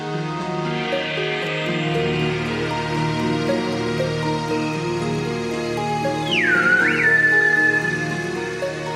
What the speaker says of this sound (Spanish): El lenguaje del silbo es un legado ancestral de origen prehispánico